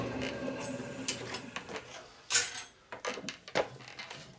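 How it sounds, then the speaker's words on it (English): A hand file chamfers the inside edge of a Harley shovelhead four-speed transmission part spinning in a lathe chuck, giving uneven close scraping strokes with ticks and mechanical clatter. "we're going to file it on this side here, and that'll put a chamfer on the back side for the inside edge"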